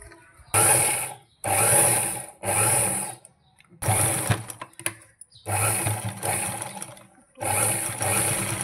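A sewing machine topstitches around a school uniform collar in repeated bursts, each running a second or so with short pauses between, loud and close with no talking.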